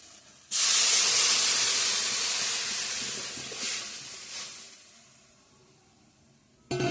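Water poured into a hot pan of soybean curry bursts into a loud, sudden hiss of steam that roars for a few seconds and then slowly fades to a quiet simmer before a brief final flare.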